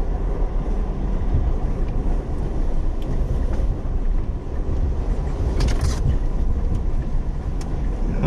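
Jeep driving off-road along a soft, sandy wash on the Vulture Mine Trail, a steady engine and tire rumble with choppy bumps and wind buffeting the microphone, close and continuous.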